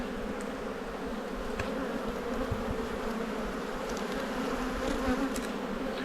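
Honey bees from an opened beehive in an Australian apiary drone in a steady, continuous buzz, with a few louder passes of individual bees near the listener.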